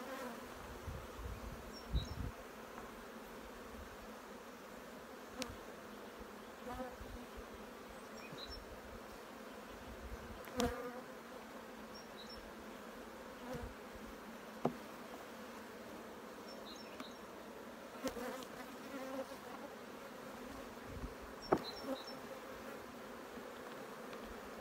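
Native honeybees hum steadily around an opened winter hive, a dense continuous buzz with occasional louder passes of single bees close by and a few sharp taps, no talking.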